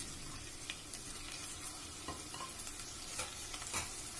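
Garlic, green chili and caraway seeds sauté in a pan, a steady soft sizzle with occasional stirring scrapes and pops, quiet and close with no voices.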